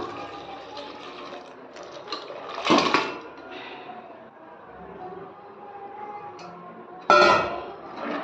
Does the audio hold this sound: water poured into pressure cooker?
yes